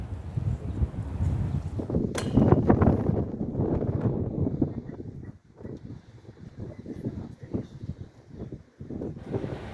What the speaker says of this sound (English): even on a cloudy, windy, and slightly rainy day like today.